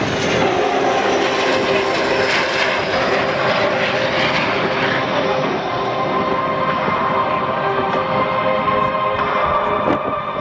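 Propeller aircraft fly past in formation at an airshow, a loud continuous drone of engines filling the air without letup.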